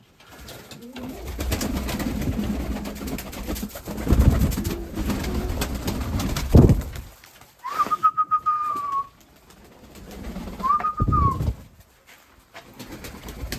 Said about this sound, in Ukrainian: приїхав провідати голубів